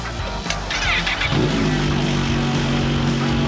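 A sport motorcycle engine idles close by, then revs up and settles into a steady, rising drone as the bike pulls away, loud and continuous with no talk over it.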